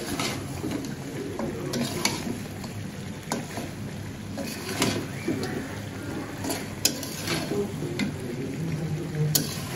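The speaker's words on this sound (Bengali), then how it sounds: "খাসির মাংস কষানো হয়ে গেছে" Goat meat frying and being stirred in a pan, a steady sizzle with scattered spoon scrapes and clinks throughout, close and alone with no talk.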